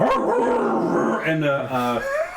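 Dogs bark and howl close by, in a short burst of drawn-out, wavering cries with a few sharper yips, loud and up front with little else around.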